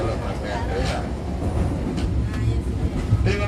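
An Indonesian passenger train, the Airlangga service on the north Java line between Tegal and Jakarta, rumbles steadily from inside the carriage, with a low continuous track roar and occasional clicks while an announcement voice plays over it.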